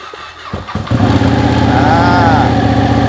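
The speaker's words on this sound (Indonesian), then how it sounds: "Jadi ini motor L Twin, dan powernya di kisaran 145 horsepower." A Ducati Panigale L-twin motorcycle engine, rated around 145 horsepower, catches and rises into a loud, steady, throbbing rev close by, its deep pulsing rumble filling the clip without any talk.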